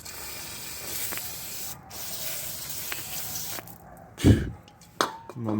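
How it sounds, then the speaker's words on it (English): Brake cleaner sprayed onto parts during a transmission fluid change on a 2002–2006 Honda CR-V, heard as a sharp hissing burst near the end, following quieter rustling and handling sounds. "That's spraying it with the brake cleaner."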